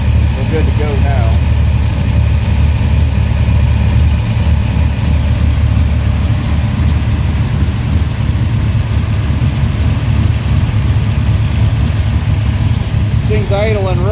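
An all-aluminum Pontiac 522 cubic inch street engine idling at about 1,000 RPM, a loud, deep, lumpy rumble that holds steady and close for the whole stretch.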